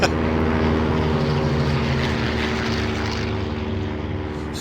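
A propeller model aircraft in a video game takes off slowly, its engine droning steadily and loudly with a constant buzzing hum throughout.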